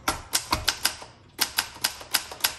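A 1966 Olympia SF travel typewriter clacks under steady keystrokes, a close run of crisp strikes with a short pause midway before the typing resumes at the same measured pace.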